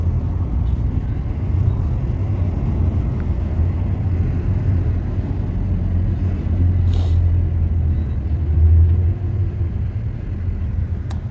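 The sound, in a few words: road traffic with trucks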